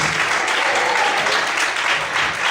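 Sustained applause from a church congregation during a sermon, dense and steady throughout, with faint voices mixed in underneath.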